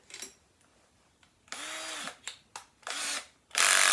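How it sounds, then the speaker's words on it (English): A power drill whirs in several short bursts of varying length with pauses between, loud and close, while the drill bit is being changed in a workshop making organ pipe rollers. "now we're going to take the drill bit out"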